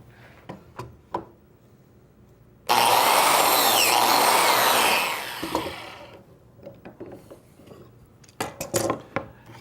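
A biscuit joiner cuts a slot in the end of a wooden shelf board clamped to a workbench: a loud, close power-tool whine lasting about three seconds, with handling clunks and taps before and after.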